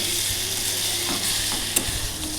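A spatula stirs eggs coated in spice masala in a pan for egg kalia curry, producing a steady sizzle with a few scraping strokes against the pan, close and moderately loud with no voices.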